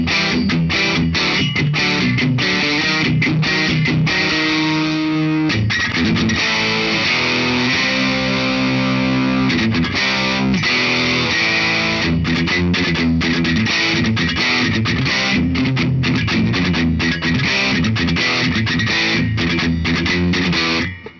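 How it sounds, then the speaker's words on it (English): A 2008 Gibson Longhorn Double Cut guitar's piezo pickup runs through a distortion effect, producing a loud, dense, continuous chordal playing with strummed attacks and a buzzy, scratchy edge throughout, with no voices. "Just for fun, yes, you can put distortion on the piezo."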